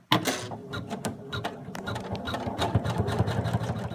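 A domestic sewing machine satin stitching tan thread around the outline of a fabric pony, its needle chattering in a fast, steady mechanical hum under a low motor drone, close up with no voices.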